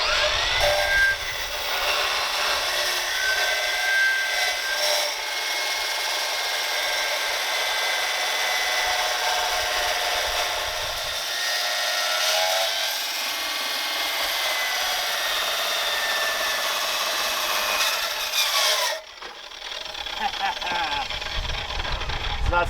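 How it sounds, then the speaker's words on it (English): A cutting wheel grinds through a stuck axle tube on a 1936 Ford 3 Window, a loud continuous abrasive whine held steady for about nineteen seconds before abruptly cutting out. "we're gonna try and cut this axle off because everything is stuck and we want this stuff"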